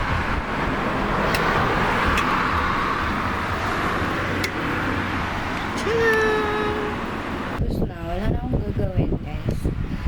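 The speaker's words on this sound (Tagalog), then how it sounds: "Daming sasakyan." Steady roar of road traffic with many cars passing on a street in Japan, a continuous broadband wash under a person talking, with a brief higher whine near the end.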